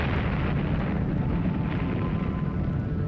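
Atomic bomb explosion effect: a dense, continuous roaring rumble, loud and heavy in the low end, sustained throughout without talk.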